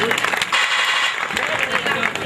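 Audience applause at a Gujarati group stage competition event, a steady wash of clapping from a crowd throughout, with some voices mixed in.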